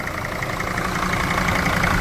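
A 2006 Mercedes Sprinter 416 van's diesel engine idles with the hood open, a steady, close, even rumble with a faint rhythmic clatter and no voices.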